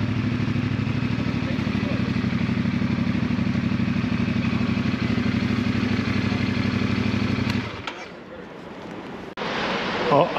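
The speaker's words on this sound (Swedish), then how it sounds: "Jädrigt många motorcyklar här." Many motorcycles idle and rumble at a ferry terminal beside the Baltic Queen ship, a loud steady engine drone that cuts off near the end, leaving quieter clatter and a brief burst of noise.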